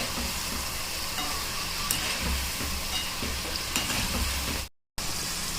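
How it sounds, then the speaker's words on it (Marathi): Khari shankarpali, a savory Diwali snack, frying in hot oil with a steady dense sizzle and occasional stirring scrapes, close and continuous, briefly dropping out near the end. "मी तेलामध्ये तळून घेतले"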